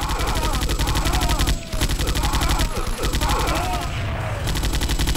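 Minigun in a Doom mod firing continuous rapid bursts, loud and close, dense rattling fire lasting nearly the whole stretch with a couple of short breaks.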